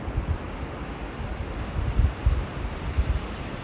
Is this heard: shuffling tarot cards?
no